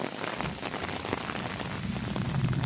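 Heavy rain pours down steadily during eel fishing with tyre tracks, a dense continuous hiss of drops pattering on surfaces throughout, fairly close and with no voices.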